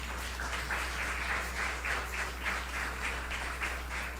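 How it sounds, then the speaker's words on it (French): Audience applause at a singing competition audition, faint, steady clapping heard from a distance over a low electrical hum, pulsing gently throughout. "Encore une fois, je vous demande d'applaudir."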